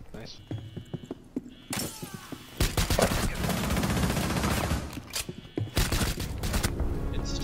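Pistol gunfire in a Rainbow Six match, several sharp shots cracking amid dense game noise and clatter, with voices talking over the action.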